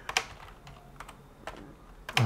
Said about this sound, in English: what is with my keyboard? What have I pressed here?